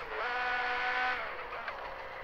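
A tuned BMW 440i making about 550 horsepower revs hard on a test drive, its engine note climbing steadily and loudly from inside the car before easing off, with a second brief rise near the end.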